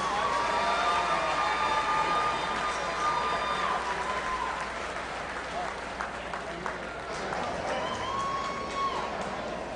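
An audience at a youth fair livestock show applauds steadily, with dense clapping from a crowd in a large arena and a few scattered cheers mixed in.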